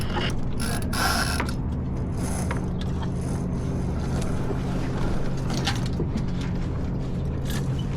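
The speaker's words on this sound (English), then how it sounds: "Let's go ahead and douse the spinnaker first." Ratcheting gear clicks and whirs as the spinnaker is doused aboard a J24 sailboat, with a continuous mechanical rattle under wind and water noise, the bursts loudest early on.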